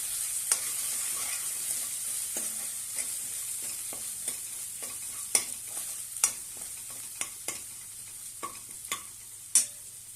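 Green chili, red chili powder and garam masala being stirred and sautéed in a pan for methi dal, a steady close sizzle broken by sharp intermittent scrapes and clinks of the spoon against the pan, with no talking.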